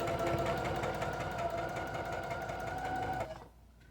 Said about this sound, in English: this is just a really simple stitch. It's just straight stitching.